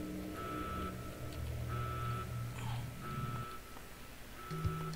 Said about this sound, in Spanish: pum pum, está sonando la alarma.